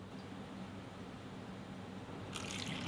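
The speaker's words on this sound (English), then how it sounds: "why are you pouring water onto the keyboard?" Water poured onto a keyboard, a steady close liquid trickle and splash that grows brighter and louder near the end, heard alone without talk.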